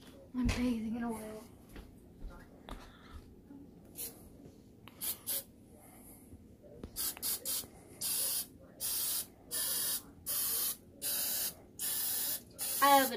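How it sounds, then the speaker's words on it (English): Short bursts of cooking oil spray hiss onto a pan in a steady series, repeated quick sprays with brief pauses, after quieter scattered sounds and a voice early on. "Spray your pan."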